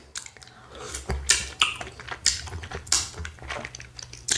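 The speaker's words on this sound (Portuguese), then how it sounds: "Vamos lá, provar mais uma vez esse tal de açaí." Close, wet chewing of açaí, repeated soft bites and squishy mastication in an irregular rhythm, quiet and intimate with no voices.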